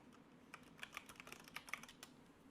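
Someone types on a computer keyboard: a quick run of light, crisp key clicks at an irregular pace, close up and quiet, with no voice over it.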